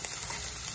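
Dried anchovies hit a hot frying pan with garlic for a balado dish, giving a brief, steady hiss of sizzling oil that is close and fairly loud, with no voices.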